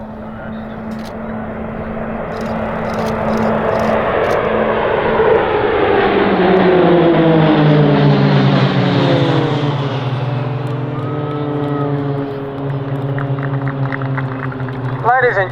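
RAAF Roulettes propeller aircraft flying a bomb burst manoeuvre at an air show at RAAF Base Point Cook roar overhead loudly. Several engines sweep past with falling pitch as the planes split apart, then the noise fades.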